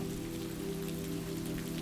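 Gentle night drizzle patters steadily on surfaces, a soft continuous hiss with faint scattered drops over a low droning hum, quiet and even throughout with no talking.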